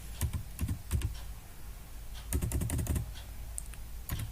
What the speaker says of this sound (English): All the letters I'm typing in capital.